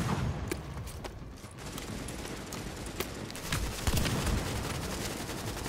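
Scattered gunshots from the video game The Division crack out sharply at irregular intervals over a busy background of combat noise, moderately loud and never quite continuous.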